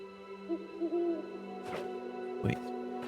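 In the Death's Door video game, an owl gives a couple of soft, low hoots over a steady humming musical backdrop, followed by two sharper game effect bursts.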